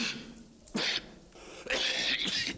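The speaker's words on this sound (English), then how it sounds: "That's a rather nasty cough you have there." Two harsh, throaty coughs, one short and one longer, sound close and fairly loud in a quiet interior room during a murder-mystery drama.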